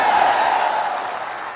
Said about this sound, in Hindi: अब बजाइए ताली